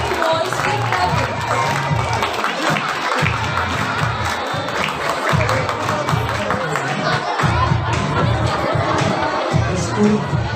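A hall full of schoolboys at a St. Dominic Savio High School festival in Ghatkopar claps and cheers in a dense, steady roar, with shouting voices mixed into the applause throughout.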